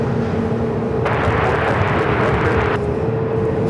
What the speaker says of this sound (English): A little WestJet 737 over here.